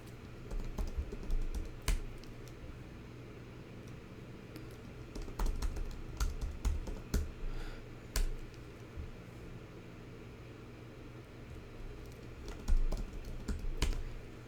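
Someone types on a computer keyboard while naming folders, bursts of close clicky keystrokes and occasional sharper key presses in uneven runs with short pauses, over a faint room hum.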